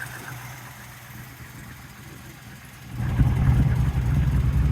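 A 1969 Camaro Z28's original DZ302 V8 with chambered exhaust idles at moderate level, then grows noticeably louder and throatier partway through and holds there.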